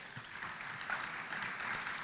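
A conference hall audience at a business forum in Nairobi claps steadily at moderate volume, a brief continuous patter of many hands with no pauses.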